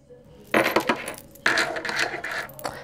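Dice tumbling and clattering onto a hard surface in a psychic reading, with bursts of rattling at the start and again midway, close and fairly loud, no talking.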